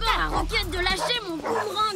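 A cartoon dog yips and barks in short excited bursts beneath a voice talking over it, the barks mixing with the speech throughout.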